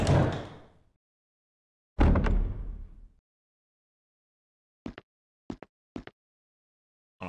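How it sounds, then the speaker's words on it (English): A mansion door in Resident Evil HD Remaster opens with two heavy booming thuds that ring out and decay, followed by a few quick sharp clicks and knocks, all in otherwise silent surroundings. "So this door's open."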